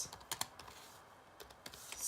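Light, fairly quiet taps on a computer keyboard come in quick, uneven keystrokes with brief pauses between short runs.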